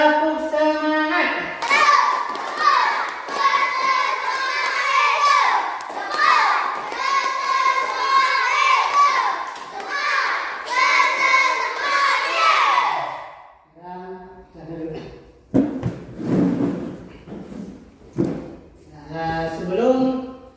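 Children chant and clap a rhythmic spirit clap in unison during a school coaching session in Indonesia, loud group voices with hand claps, followed by scattered clapping and shouts.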